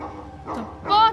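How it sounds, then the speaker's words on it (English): Dogs bark and yip in the video game Shadowalker, a quick yelping bark rising at the end under a player's talking. "Stop barking! Why are there so many dogs?"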